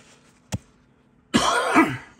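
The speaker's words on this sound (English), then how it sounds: "got a bit of a cough on" A single short cough sounds early, followed by a louder, harsher burst of coughing or throat clearing that runs to the end, all close and with no talk.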